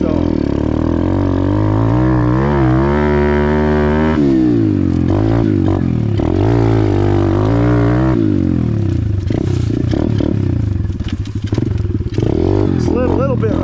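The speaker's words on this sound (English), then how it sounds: "I'm going to try and do one lap on the pit bike track with the upgraded carburetor" An Amazon pit bike fitted with an upgraded carburetor rides a lap of a pit bike track, its small engine revving hard and rising and falling in pitch close by, with the rider's voice heard over it.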